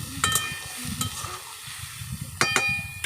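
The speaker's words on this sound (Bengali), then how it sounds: "তোমার ভাজা কমপ্লিট, দেখতে পাচ্ছ পেঁয়াজগুলো হালকা লাল লাল হয়ে যাচ্ছে" Onions frying in a pan while being stirred, a steady close sizzle broken by several sharp clinks and scrapes of a utensil against the pan.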